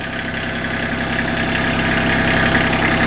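A Kubota engine idles steadily with its alternator turning, a constant mid-pitched drone with a faint rhythmic flutter, close and loud throughout without any talk.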